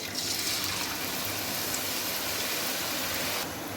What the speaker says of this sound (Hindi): अब हम आलू लच्छा आयल के अंदर डालेंगे।